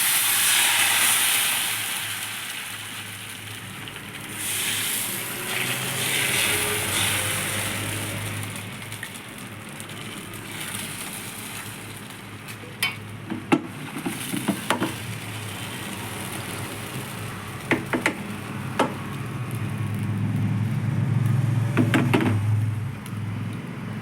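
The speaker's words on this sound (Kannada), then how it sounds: "ದೋಸೆ ಹುಯ್ತಾ ಇದ್ದೀನಿ ನಾನು." Thin neer dosa batter cooks on a hot dosa griddle with a soft, steady hiss and sizzle, plus a few faint taps and clicks, heard close and alone.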